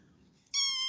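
A domestic cat meows once, loud and close, a sustained tonal cry starting halfway through after a quiet room.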